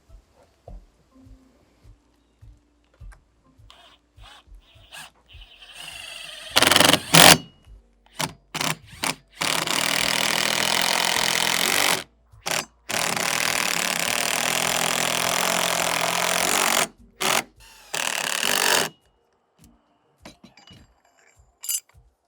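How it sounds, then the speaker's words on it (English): Power driver running 4-inch, 5/16 GRK screws into the countersunk recess of an aluminum handrail top mount post base, in several sustained whirring bursts of a few seconds each, separated by short pauses and light clinks. "going to be driving these GRK screws in"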